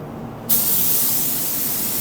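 Spray gun laying a second coat of pearl white car paint, a loud steady hiss that starts abruptly and holds without a break, close and alone.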